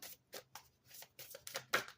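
A tarot card deck being shaken and shuffled, giving repeated papery riffling bursts in an uneven rhythm, close and moderately quiet, with no talk.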